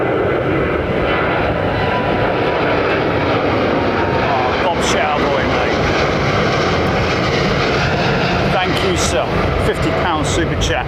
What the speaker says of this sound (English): it's a Dreamliner.